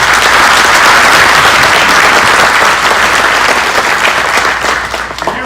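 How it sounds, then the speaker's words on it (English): A banquet-hall audience at a Scout award dinner breaks into sustained, loud applause, a dense wash of many hands clapping that holds steady and tapers slightly at the end. "Please join me in a round of applause for our community partners"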